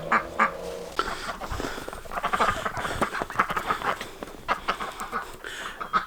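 Ducks quacking in a backyard duck pen, several birds giving repeated nasal calls close by, with scattered shuffling and rustling around them.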